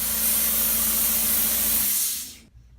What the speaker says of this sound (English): Now we're going to be spraying the Total 360 system.